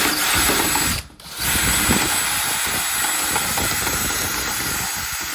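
A drill bit bores a hole for a recessed pocket door handle, giving a steady, loud, gritty whir that drops out briefly near the start before running on continuously.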